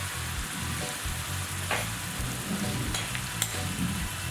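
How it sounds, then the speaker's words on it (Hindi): Red chili powder, ground coriander and garam masala fry in hot oil for a fish curry, a continuous close sizzle broken by occasional scraping stirs. "इसको हम भून लेंगे।"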